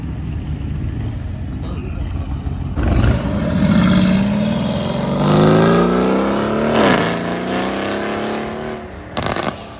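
An Aston Martin engine at an exotic car show, revving up and sweeping in pitch as the car accelerates past, loud and close, with a second rising pass and crowd noise around it.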